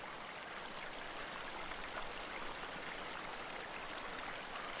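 Steady rain falling and pattering on surfaces, an even, continuous hiss with dense scattered droplet detail, moderately soft and unbroken throughout, with no voices.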